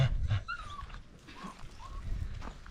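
Pumi Puli sheepdog puppy whimpering, with several thin, high rising whines and squeaks over a few seconds, close by, against low rustling and handling noise.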